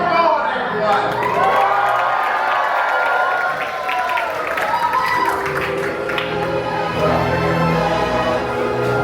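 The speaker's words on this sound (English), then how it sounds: "Cheer on, everyone!" A lively crowd of children and adults at a treasure-chest opening on Castaway Cay cheers, claps and whoops, steady and loud throughout, with voices mixed into the din.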